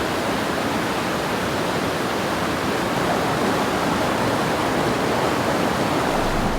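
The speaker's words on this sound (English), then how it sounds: "there is a waterfall in this creek" A waterfall in a creek along the Old Telegraph Track in Cape York, Australia, spilling into a swimming hole. It is a dense, even rush of falling water, continuous and fairly close, with no voices.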